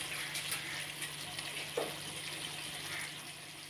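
Chicken and green beans frying on high heat in a pan: a soft, steady sizzle throughout, with an occasional stir or clink, quiet and without talk.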